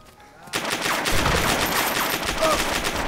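Shotgun fire in the DayZ video game comes as a dense, loud burst of cracking shots and rumbling echo that fills the clip from half a second in, with faint voices beneath.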